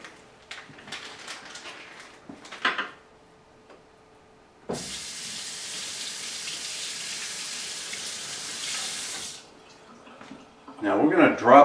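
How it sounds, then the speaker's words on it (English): Tap water runs hard into a kitchen sink for about five seconds as a bachelor cook rinses out a cut-open piece of food, with scattered clatter and speech before and after. "I'm going to walk over to the sink right now and wash this sucker out."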